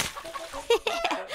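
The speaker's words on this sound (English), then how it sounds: "it's only chickens" Chickens cluck nearby in a short burst of several quick, choppy calls.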